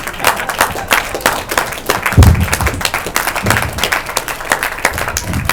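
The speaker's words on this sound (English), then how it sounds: "You guys should be standing up and fucking clapping" Steady applause from an audience at a comedy show in a bar venue, many hands clapping densely and continuously throughout, fairly loud and close, with no speech over it.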